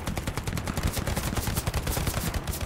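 Rapid automatic gunfire in the World War II shooter Hell Let Loose, a dense, continuous rattle of close shots layered with more distant fire, loud throughout with no talking.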